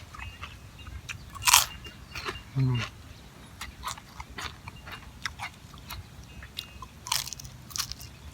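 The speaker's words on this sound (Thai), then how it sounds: "มากินตำมั่วนะครับ" Someone eating spicy Thai papaya salad (tam mua) with fish, crunching and biting close to the mic in a few sharp bursts, with faint background sounds between bites.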